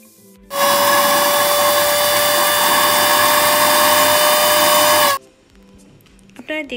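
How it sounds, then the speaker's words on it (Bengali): An electric kitchen grinder whirs loudly and steadily for about four and a half seconds, pulverizing dried shrimp and dried chillies for chingri shutki bharta, then cuts off abruptly, leaving faint handling noises. "আমি এখন এই গ্রাইন্ডারের মধ্যে শুকনো মরিচগুলো গুঁড়ো করে নেব"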